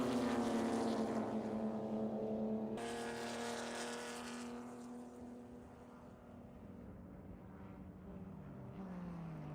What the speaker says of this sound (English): Now Zoris gets away from this battle as it keeps tightening up for Spec Boxster